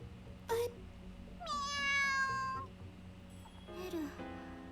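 A transceiver cat in a video game meows in three separate calls: a short chirp, then a long drawn-out tonal meow, then a final rising mew, each clear and close over a quiet background hum.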